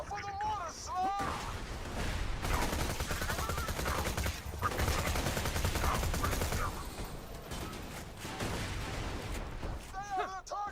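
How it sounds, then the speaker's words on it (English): Mortar fire and gunfire in the video game Borderlands 2 sound as a continuous rumbling barrage of shots and booms under a game character's talk, with sharp bursts standing out at the start and end. "Watch out for the mortars, Slam!"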